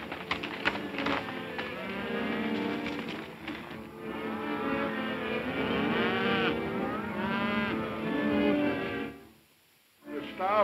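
Cattle lowing on a Western ranch range, several long drawn-out moos overlapping one after another, fairly loud and close, before the calls fade into near silence and return briefly at the end.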